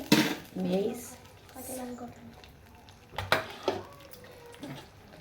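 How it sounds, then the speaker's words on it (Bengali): A utensil clanks and scrapes against a pan while pumpkin greens are stirred with a little added water, giving a few sharp metallic knocks and rustling strokes spaced irregularly and heard up close. "সামান্য জল নিয়ে ভালো করে নেড়ে চেড়ে নেবো।"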